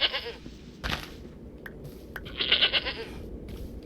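Two wavering goat bleats in TerraFirmaCraft, one at the start and a longer one later, over faint game ambience.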